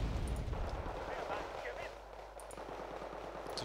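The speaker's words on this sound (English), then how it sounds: "Well, the LSTR is going to shoot him down then." An LSTR anti-air vehicle opens fire in Wargame Red Dragon, a burst of rapid gunfire rumbling at moderate distance over low battle noise while a voice talks throughout.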